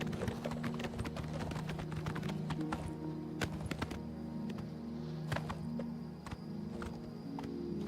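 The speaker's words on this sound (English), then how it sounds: "The unique Dark Brotherhood horse" Shadowmere, the unique Dark Brotherhood horse in The Elder Scrolls IV: Oblivion Remaster, clip-clops along with steady hoofbeats throughout, over a sustained droning game soundtrack.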